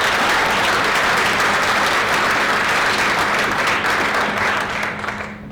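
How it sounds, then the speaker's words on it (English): A school audience gives students a steady, dense round of applause, loud and sustained, tapering slightly near the end with no talking over it. "I'd like to give them a special round of applause as well"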